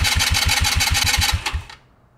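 A scooter's electric starter cranks the engine in a steady run of about ten rapid, loud, even churning strokes, then cuts out abruptly, leaving near silence for the final half second.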